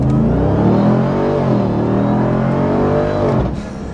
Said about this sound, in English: I need to interrupt this program for a quick message from the TRX's ridiculous acceleration